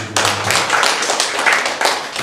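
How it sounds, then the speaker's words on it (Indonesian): A church congregation claps their hands together, a brisk, loud burst of many palms with uneven accents, starting abruptly and continuing steadily without speech. "Tepuk tangan bagi Tuhan."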